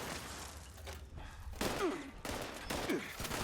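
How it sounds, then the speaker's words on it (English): Gunfire in Fallout 76, a stream of shots aimed at enemies' feet, rattling at moderate loudness with bursts picking up partway through and a voice chattering underneath. "I can just shoot at their feet."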